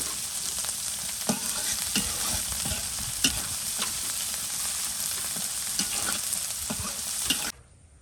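Shrimp and chopped onion fry in a pan over a village cooking fire, a steady close sizzle broken by regular spatula scrapes and taps against the pan until the sound cuts off abruptly.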